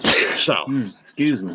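A sharp sneeze bursts out at the start, close and loud, followed by a man excusing himself as talk carries on.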